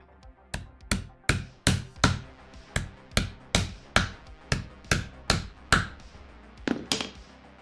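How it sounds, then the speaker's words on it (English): Sharp, regular strikes ring out about twice a second as sewing holes are punched through a leather belt, each hit crisp and close with a short decay, with no talk over them. "Drilling sewing holes, says Jason."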